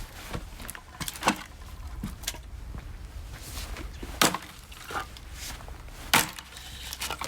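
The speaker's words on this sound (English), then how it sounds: "Every blow is going directly into wood." Firewood is split with repeated blows straight into the wood, producing scattered sharp knocks and cracks at moderate distance, spaced irregularly a second or two apart over a quiet outdoor background.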